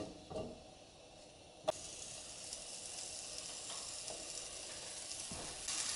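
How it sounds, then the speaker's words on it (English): Peaches dropped into three tablespoons of hot oil in a pan for a Persian peach stew give a steady, close sizzle that holds across the whole stretch, with a few brief clinks and a louder flare of frying near the end. "In this pan, I've added the 3 tablespoons of oil, and now I'm going to add in my peaches."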